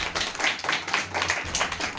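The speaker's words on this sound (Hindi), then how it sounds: "ताली बजाओ।" A group at an Independence Day celebration at a studio academy claps in uneven, fairly loud bursts with a steady pulse throughout, close and without talk.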